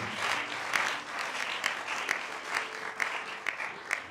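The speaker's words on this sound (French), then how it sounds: "Applaudis, applaudis, applaudis." A church congregation claps steadily, a dense crowd applause with a few sharper claps standing out in a loose rhythm.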